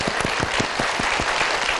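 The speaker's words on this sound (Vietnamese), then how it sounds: "Một tràng vỗ tay để chính thức vào vòng 2." Studio audience applause at a Vietnamese TV quiz show, a dense steady burst of many hands clapping with no talk over it, moderately loud throughout.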